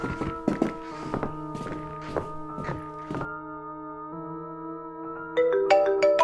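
A cell phone rings in a horror film while the victim hides, a steady electronic ringtone of sustained tones following several thumps and taps, with a brighter melodic burst near the end.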